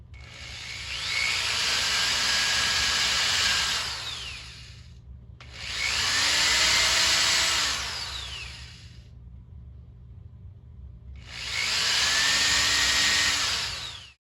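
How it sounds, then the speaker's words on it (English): A hand drill bores into a wooden shotgun butt stock in three separate bursts of a few seconds each, with pauses between, whirring and grinding up close. "just a hand drill, I'm not going to bother getting out the drill press"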